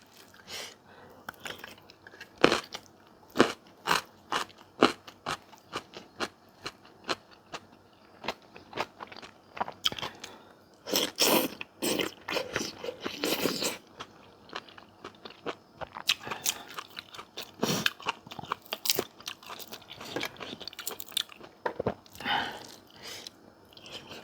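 Crunchy eating of raw winged beans and djenkol beans with tamarind chili dip, close loud bites and chewing crunches in irregular bursts throughout, with brief quieter pauses between mouthfuls.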